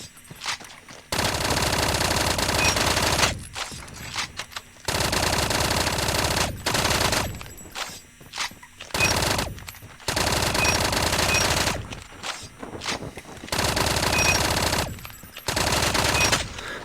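A Fennec submachine gun in a first-person shooter game fires rapid full-auto bursts, several sustained sprays separated by short pauses, loud and close.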